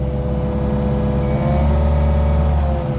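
A Yanmar SV40 mini excavator's diesel engine drones steadily and loudly at idle, with a low rumble and a faint rise in pitch midway, no voices.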